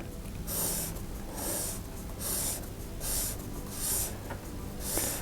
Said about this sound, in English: With the graphite filed at an angle, I can make marks known as broad strokes, which are broad marks like these.